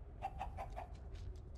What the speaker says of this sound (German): Ein königliches Huhn.